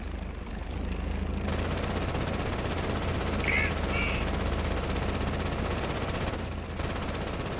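Sustained gunfire rattles through a battle in the video game Easy Red 2, a dense, continuous crackle of rapid shots at steady loudness throughout.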